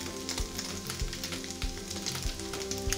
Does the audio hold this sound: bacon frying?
yes